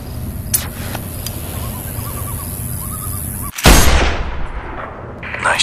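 Sniper rifle shot in the video game Sniper Ghost Warrior 2, a single loud, sharp crack with a booming tail that fades over about a second, preceded by quieter ambient noise and faint sounds.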